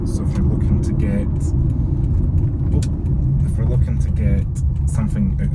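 A Toyota iQ with a noisy CVT gearbox drives along, giving a steady low cabin rumble and road noise throughout while someone talks over it.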